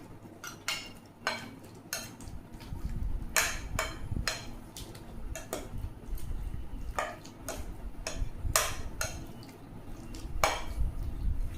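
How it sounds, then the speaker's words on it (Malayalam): Boiled potatoes mashed in a bowl, with repeated knocks and clinks of the utensil against the bowl in an uneven rhythm over soft squishing, close up and with no talking. "അതിനായിട്ട് ഞാൻ 3 പൊട്ടറ്റോ പുഴുങ്ങി പൊടിക്കുകയാണ്. നല്ലോണം മാഷ് ചെയ്യാണ്."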